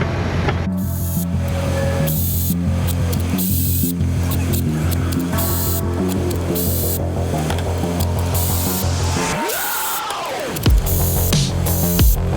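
Continuous hiss of an aerosol spray onto engine parts of a 2003 Chevrolet Tahoe during a rear main seal oil leak repair, loud and close, broken by short bursts and a brief pause near the end.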